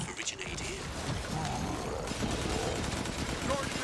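Gunfire from the survival horror video game Resident Evil Village, a dense run of rapid shots with mechanical clatter, steady and fairly loud throughout with game ambience underneath.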